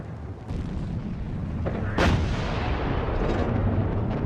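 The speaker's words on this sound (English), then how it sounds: "Then there was another explosion," Wartime explosions and heavy artillery fire at the outbreak of the First World War, a dull rumbling barrage with a sharp blast at the start and a louder one midway, booming continuously in the distance.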